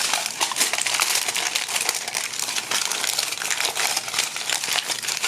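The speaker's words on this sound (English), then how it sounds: "I'm just going to crumple this up so that it can sit in the bottom of the bowl" Continuous crisp crinkling of aluminum foil being crumpled up close, a dense rustling that lasts the whole time.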